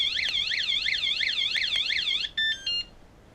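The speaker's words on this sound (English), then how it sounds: "it does that beep when it arms itself" A bike alarm arming itself: a loud warbling electronic tone rises and falls steadily for about two seconds, then gives two short, sharp beeps before cutting out, with no talking.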